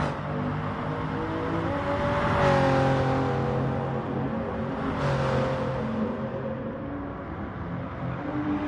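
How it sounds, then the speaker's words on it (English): Toyota Supra GT3 race car during an endurance race, its engine droning loudly and steadily with two rising swells as it accelerates, heard alone without commentary. "Kale, lovely smooth Supra, chasing him down."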